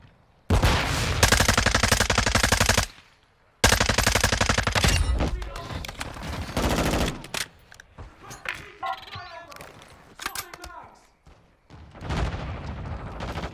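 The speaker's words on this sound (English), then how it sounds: "I literally changed my SMG to like no recoil, like so I could shoot from far with a sight." SMG fire in Modern Warfare 2 rattles in long sustained automatic bursts, loud and close, with a short gap between the first two bursts, then scattered shots and game noise as a voice talks.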